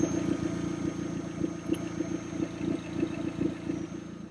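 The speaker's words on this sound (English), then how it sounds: "the exhaust is blowing really bad" A Vauxhall Zafira 1.8 engine idles with a leaking, blowing exhaust, giving a steady close-up rumble with rhythmic puffing pulses and a light clatter, with no talk over it.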